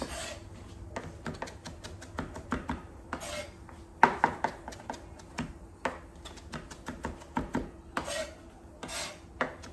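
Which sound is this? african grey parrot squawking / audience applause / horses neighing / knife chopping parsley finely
knife chopping parsley finely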